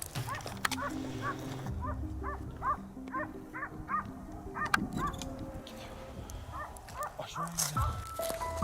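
Hunting dogs bark in a rapid series while chasing wild boar on a Carolina farm, fairly distant and mixed with outdoor ambience, with a voice talking over them.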